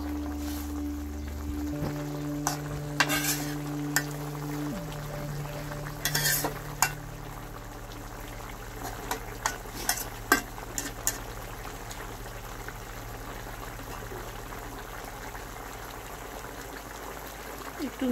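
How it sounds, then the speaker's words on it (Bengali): A radish and fish curry gets stirred in a pan, its soft bubbling simmer running under occasional scraping and clinking of the spoon, as a steady low hum persists and faint background sounds come and go. "ভালো করে একটু নাড়াচাড়া করে মিশিয়ে নেব।"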